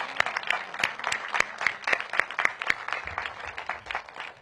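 Audience applause at a ceremony opening a permanent supportive housing building, with sharp irregular claps from a modest crowd, moderately loud and alone.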